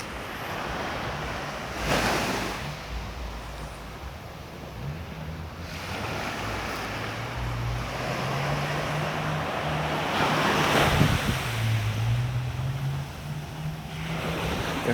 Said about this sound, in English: From here you can see across the Fort Stone Beach.